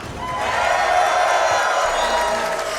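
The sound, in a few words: audience cheering and yelling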